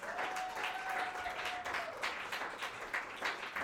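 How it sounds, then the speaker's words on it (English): Audience clapping at an adult music showcase at a music school, steady and continuous for a few seconds at moderate loudness with no talk over it. "Everybody just clap on the way."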